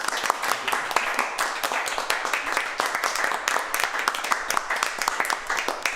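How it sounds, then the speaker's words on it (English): Workshop participants applaud one another in a room, a dense, steady patter of many hands clapping at once that carries through the whole stretch. "I'm going to ask everybody in the room to applaud each other here"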